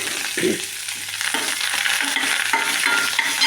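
Cumin seeds and curry leaves hit hot oil and are stirred, giving a loud, dense crackling sizzle that flares near the start and then holds steady, with spoon scrapes and no speech.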